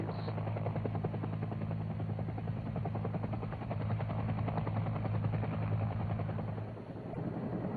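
A 1970 Air Force UH-1 helicopter during tactical operations gives a steady, loud rotor drone with continuous rhythmic thumping that holds evenly throughout.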